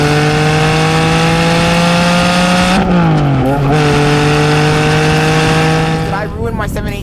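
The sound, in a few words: Porsche 718 Spyder exhaust with linking pipes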